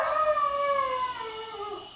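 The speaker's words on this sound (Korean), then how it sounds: "보호자가 집에 없자 하울링을 하고 짖는 춘식이" A dog left alone at home howls in one long, drawn-out wail that slowly falls in pitch, close and clear against a quiet indoor room.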